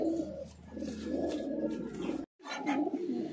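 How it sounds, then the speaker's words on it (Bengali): Pigeons coo softly at a farm housing Giribaz, colouring racer and Budapest breeds, several low throaty coos rolling over a quiet indoor background, with a brief dropout midway. "দেখেন কবুতরগুলো দেখেন"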